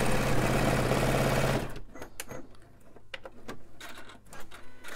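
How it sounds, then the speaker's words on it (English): A sewing machine stitches a straight seam through two layers of fabric placed right sides together, running loud and steady for about a second and a half, then stopping, followed by quieter scattered handling sounds. "I'm going to place these 2 fabrics right sides together, and I'm just going to sew randomly. I'll do a straight seam to start with."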